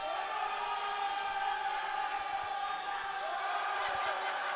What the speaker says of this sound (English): Loud crowd here at the Glennie